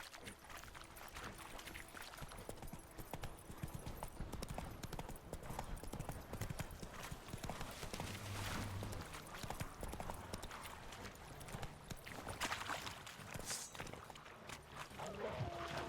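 The horse Roach gallops in The Witcher 3, steady rapid clip-clop hoofbeats that run continuously and fairly loud against a faint game background, with no voices.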